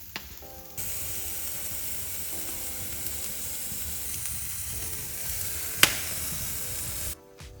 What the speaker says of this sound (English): I can see this juice sizzling out each of these ribs